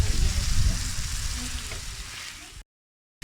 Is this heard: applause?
no